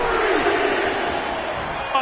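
A wrestling match crowd roars and cheers in a dense, continuous wash of voices, loud and sustained, with a commentator's voice faintly mixed in.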